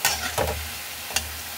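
Garlic bondas deep-fry in hot oil with a steady, fairly loud hiss and bubble, broken by two or three quick scraping or clinking touches of a utensil; no one speaks.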